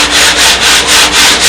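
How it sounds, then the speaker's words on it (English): A sanding block rubs back and forth over the wooden sides of a model aircraft fuselage, a loud, close, rhythmic rasping in even strokes of roughly a quarter second each. "the way I can do this now is with a sanding block"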